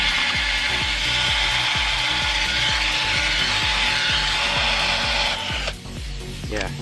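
A screwdriver drives a screw into a flat tire at home, giving a steady run of regular ratcheting clicks that continues for several seconds before tapering off.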